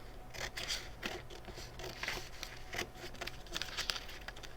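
Scissors snip out paper triangles and a small trapezoid for a folded paper pyramid, giving close, steady, repeated crisp cuts with light paper rustle and no talking.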